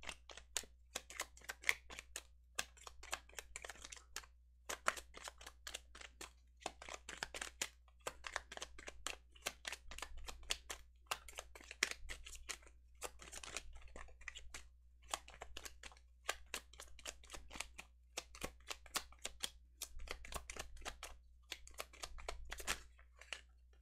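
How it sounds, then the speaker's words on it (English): Tarot cards shuffled by hand give a quiet, close run of crisp papery riffles and snaps in irregular bursts with brief pauses between them, heard alone without talk. "A lot of shuffling,"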